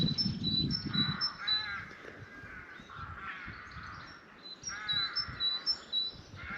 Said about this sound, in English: That's a great tit calling